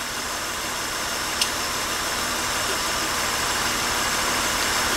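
A car engine idles steadily during a cylinder power balance test, a faulty injector simulated on one cylinder; an even, continuous hum with one brief click partway through and no voices.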